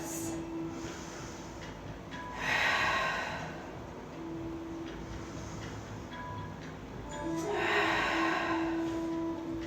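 Slow, deep yoga breaths taken while resting the forehead on a mat or block, two long airy exhalations a few seconds apart over a low steady hum, with no talking.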